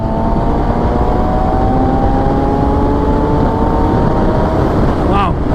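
A Kawasaki ZX-6R 636 supersport motorcycle engine, a 2014 model, revs steadily and loudly with rising harmonic tones, heard up close with heavy wind rush and a brief higher whine near the end.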